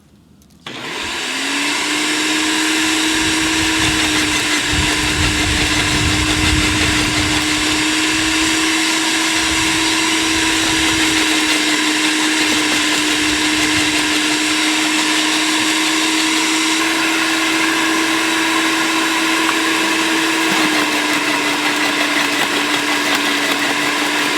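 SunJoe electric wood chipper spinning up and shredding tree branches about 1.5 inches thick. Loud, steady motor whine with crunching grinding bursts as wood feeds through, close and continuous, with no talking.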